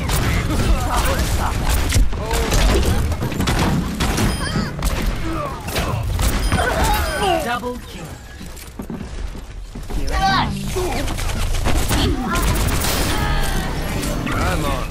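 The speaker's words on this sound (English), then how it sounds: "Enemy turret over there!" Gunfire and mechanical clatter in a busy Overwatch match, with rapid bursts of shots, booms and metallic clanks that are continuous and loud, while players talk over the action.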